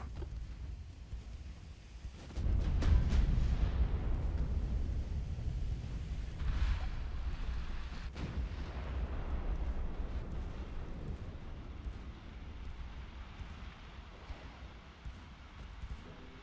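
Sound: torpedoes being launched from warships in Ultimate Admiral: Dreadnoughts video game

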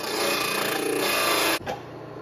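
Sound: belt sander smoothing a cut piece

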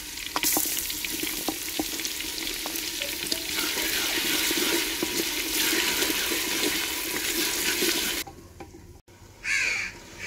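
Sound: ginger garlic paste added to frying onions

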